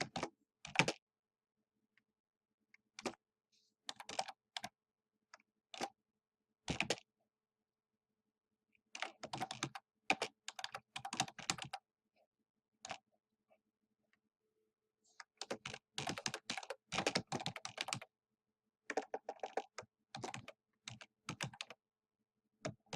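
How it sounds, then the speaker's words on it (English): Bursts of typing on a computer keyboard, close and clicky, come in irregular runs separated by short quiet pauses. "To begin, I have to start typing."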